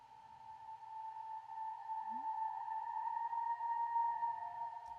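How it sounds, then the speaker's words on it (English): A reversed vocal sample pitched up an octave plays as a thin, steady, high-pitched sustained tone with faint wavering, alone and fairly quiet in a spacey melodic texture. "I took this vocal sample and I reversed it."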